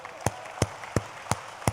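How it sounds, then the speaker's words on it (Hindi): Clapping at a Hindi poetry recital about Ram: five sharp, evenly spaced claps about a third of a second apart, close and distinct rather than a full crowd wash. "तालियां बजा दो।"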